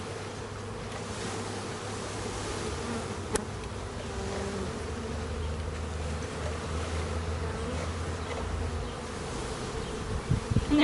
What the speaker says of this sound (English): Just kind of pouring the bees into their new home.